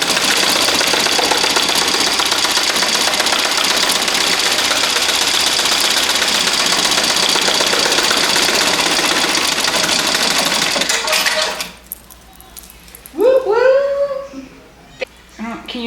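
Poolin EOX embroidery machine stitching a hat, a loud, fast, continuous mechanical buzz of needle strokes for about eleven seconds that then stops, followed by someone speaking close by.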